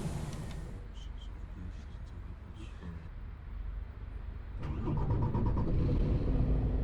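Coach engine in the Fernbus bus simulator game, idling low and then restarting with a rising, louder rumble about two-thirds of the way through, with clicks and chimes heard alongside.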